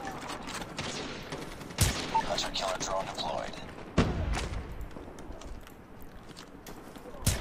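Gunfire from Call of Duty Mobile on a multiplayer map, with sharp shots and bursts rattling over dense game noise while a player talks throughout.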